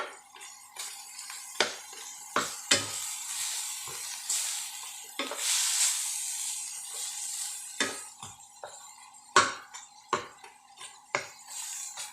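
Minced pork, shrimp and spring onions stir-fried in a pan: a steady sizzle under repeated clinks and scrapes of a utensil against the pan, close and busy.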